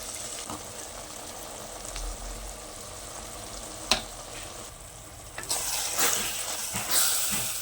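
Spice powders of turmeric, Kashmiri chili, coriander and beef masala heat and stir in a pan, giving a soft, steady sizzle with scraping stirs and a couple of sharp clacks, the frying hiss brightening near the end.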